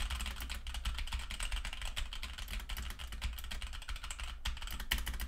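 Continuous typing on a mechanical keyboard with linear red switches, quick muted key clacks in a busy stream, close and unaccompanied by voices.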